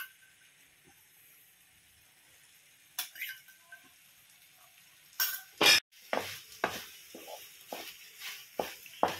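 Soya chunk manchurian with spring onion being stirred in a pan: faint hiss at first, then a burst of close scraping and clattering strokes from a utensil against the metal, repeated in an irregular rhythm toward the end.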